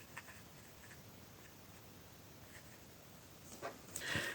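Soft, dry scratching of a pastel stick worked on its edge across paper, quiet and steady as rain strokes are drawn, with a brief louder scrape near the end.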